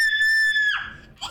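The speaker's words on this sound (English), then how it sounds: "Need to not screech, buddy." A child in the room lets out a loud, high-pitched screech that holds steady, then slides downward and breaks off, followed by a brief squeal.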